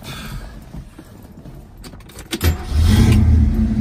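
A 1968 Mercury Cougar with a 289ci V8 and four-speed cranks briefly, then the engine catches and settles into a loud, steady, close idle after some quiet shuffling.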